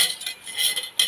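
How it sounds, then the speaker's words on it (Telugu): A metal cooking pot set on a lit stove before making bottle gourd and green chilli curry, a short bright clink at the start and another near the end over a soft hiss, with no voices. "ఇలా గిన్నె పెట్టుకుందాం"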